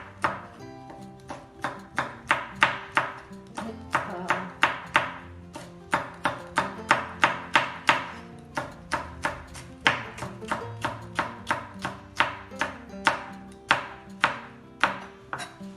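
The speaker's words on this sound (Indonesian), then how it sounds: "Ini kita iris setipis mungkin." Red chili being sliced thinly with a knife on a board, a long run of crisp, evenly spaced chops with short pauses, close and clear.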